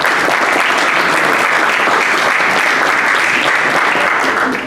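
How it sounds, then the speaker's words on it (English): Steady, loud applause from an audience at a Hall of Fame induction ceremony, honoring the selection committee, sustained dense clapping throughout with no talking. "round of applause for the Hall of Fame committee"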